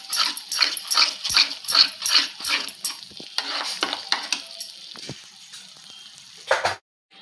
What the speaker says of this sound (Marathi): आता मस्त आपण मसाला फ्राय करून घेऊया